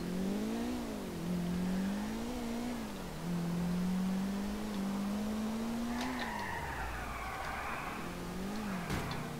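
A car driven in GTA IV with the LCPD:FR mod revs and accelerates in repeated rising and falling engine pitches, loud and close, with tyre squeal and skidding bursts later on.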